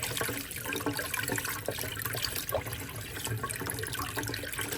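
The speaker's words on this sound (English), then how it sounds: "We're gonna be rinsing the bacalao and take all the salt, okay?" Salted cod being rinsed under a running kitchen tap, with a steady wash of splashing water close by throughout, fairly quiet and without speech.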